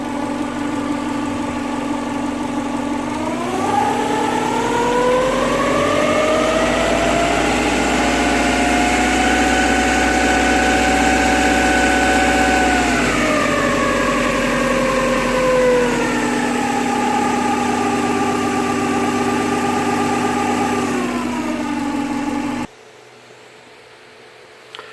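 A Subaru EJ25 DOHC engine idles steadily and close by for most of the span, its pitch rising for a stretch as revs climb before settling back to a lower idle, then cutting off abruptly near the end.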